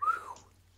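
A short rising whistled note from a person, fairly quiet and alone, fading out within a second.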